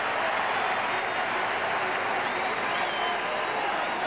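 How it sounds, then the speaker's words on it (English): Steady roar of a baseball crowd inside the Metrodome during the 1987 World Series Game 7, Twins vs. Cardinals, as a wave rolls around the stands; dense, continuous cheering and clapping with no gaps. "As if they need more reason to make noise, a wave rolls around the Metrodome"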